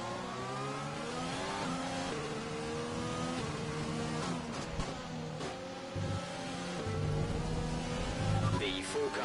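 Race car engines from the video game F1 2020, set at China, hum and rev steadily at low speed in the rain, with continuous layered engine whine and some shifts in pitch throughout.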